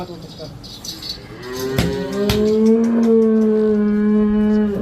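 A cow on a dairy farm lets out one long, loud, close moo that rises and holds steady for a couple of seconds, with a few sharp knocks just before it and faint farm noise underneath.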